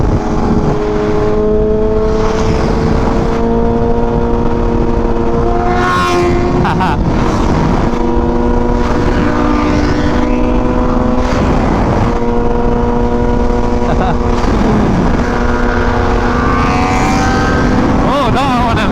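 A group of superbikes, including a BMW M1000, rides together, their engines droning loudly and continuously, with rising and falling revs and wind noise over the whole stretch.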